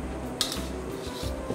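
Baking powder and sugar are mixed in a bowl for chhanar kalojam, with soft scraping and rubbing strokes and a couple of light clinks of a utensil against the dish, close and quiet.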